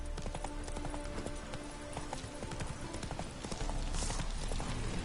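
Roach, the horse in The Witcher 3, trots along with rapid, even clip-clopping hooves on a continuous rhythm over a low game ambience, with no talking.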